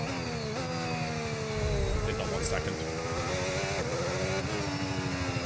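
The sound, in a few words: F1 25 video game car with damaged, flat-sounding tire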